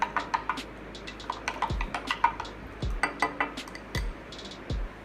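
A mixture is stirred in a container for a science experiment, giving irregular light clinks and scraping taps, with a few dull low knocks in between.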